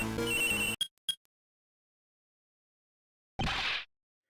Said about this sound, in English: That's her cell phone. Huh? Mine is also ringing.